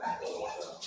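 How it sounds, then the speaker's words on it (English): A dog yips and whimpers in a short excited burst, fairly close but faint, with no speech over it. "my dog, of course, is saying hi as well"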